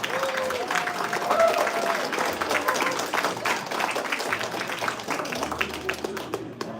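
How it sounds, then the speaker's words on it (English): A crowd at a shoe shining world championship applauds steadily throughout, dense clapping with some cheering and background noise, fairly loud and continuous. "give them a round of applause and encourage them"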